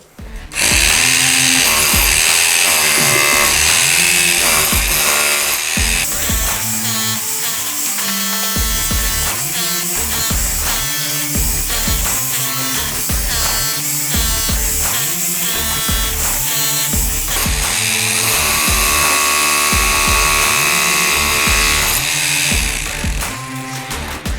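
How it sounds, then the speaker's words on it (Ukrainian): A straight-type rotary hammer drill fitted with a chisel bit runs loud and close, its motor whining over a rapid, pulsing hammering that continues steadily with brief shifts in pitch. "Давайте я спробую поставити зубило. Подивимося, як із ним робота йде."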